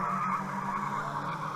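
Caterham race cars brake into the Druids hairpin at Brands Hatch, tyres squealing in a loud, sustained screech over engine noise, close by and continuous.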